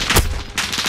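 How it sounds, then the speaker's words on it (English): Gunfire in Call of Duty Warzone: two loud, sharp gunshot cracks a short moment apart, close and punchy. "Taking fire here."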